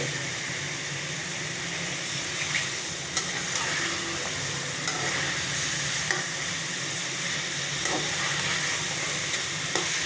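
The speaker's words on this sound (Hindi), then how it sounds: "पहले चिकन को अच्छी तरह फ्राई कर लेंगे।" Chicken frying in a pan, a continuous loud sizzle and hiss of hot oil with occasional small pops and stirring clicks, steady throughout.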